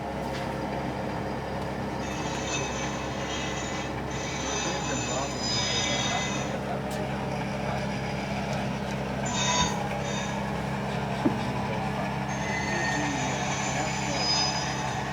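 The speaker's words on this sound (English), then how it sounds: "The squealing sounds being provided by the Squealer, an electronics project by Iowa Scale Engineering." Model railroad wheel squeal from a Squealer electronics board by Iowa Scale Engineering, with intermittent high-pitched squeals over a steady rolling rumble of model BN and BNSF trains.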